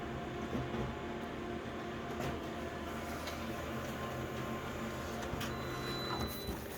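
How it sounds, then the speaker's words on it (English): Continuous loud mechanical whirring and grinding from a scanner, steady throughout with occasional clicks and a faint high whine near the end. "Scanner's making some horrible noises"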